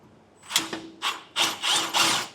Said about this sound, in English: we're just going to drill out enough to fit our bolt through.